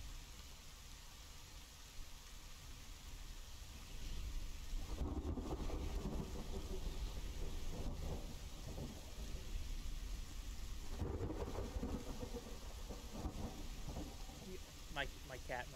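Steady rainfall hisses throughout in the game Thronefall while rolling thunder swells twice, with faint background noise and no close voices.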